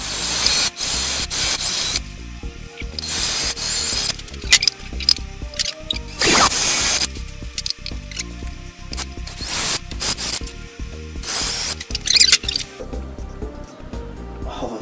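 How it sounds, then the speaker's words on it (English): A power drill bores into a wooden table in repeated bursts of varying length, loud and close, with brief pauses and scraping between runs. "After all that work, I'm going to drill into it."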